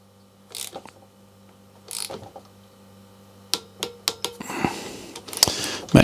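A hand tool tightens bolts on an e-bike during its first service, giving a run of sharp ratcheting clicks close by after a quieter start with a low hum in the background.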